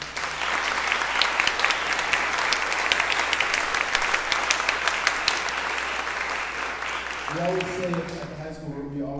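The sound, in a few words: concert audience applause for the band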